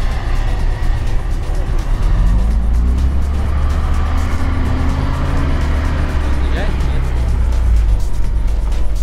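Off-road car accelerating up a muddy hill, a loud close engine roar rising and holding in pitch across the whole stretch, with people talking over it.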